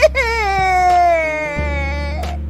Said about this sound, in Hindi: उसके रोने की आवाज सुनकर सभी वहाँ आ जाते हैं